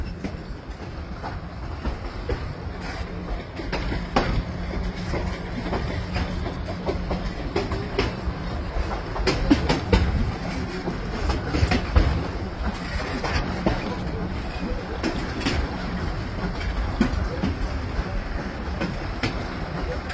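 Steady rumble and rhythmic clatter of a passenger train rolling along rails between Restinga Seca and Santa Maria, Brazil, heard from inside, continuous and moderately loud.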